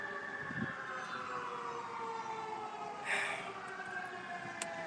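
An emergency vehicle siren wails down a street, its sweeping tone loud and steady, rising and falling while traffic noise runs beneath it.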